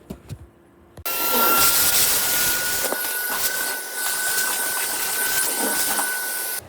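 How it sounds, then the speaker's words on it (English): A shop vacuum switches on after a second of quiet and runs steadily with a loud, broadband whoosh and a thin high whine, close by. "time to vacuum this stuff up. I just got the shop vac out."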